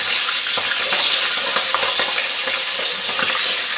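Pabda fish frying in a pan, a steady dense sizzle and crackle of hot oil, close and loud, with small pops scattered throughout.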